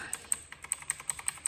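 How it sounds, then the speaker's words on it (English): The delete key on a computer keyboard pressed over and over in a quick, even rhythm, about seven or eight crisp, close clicks with no voices. "Then hit delete on your keyboard."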